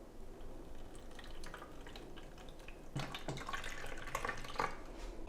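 Cranberry juice pours into a Ninja Slushi machine's vessel, a soft liquid splashing and trickling that grows fuller and more gurgling partway through, close and fairly quiet with no talk.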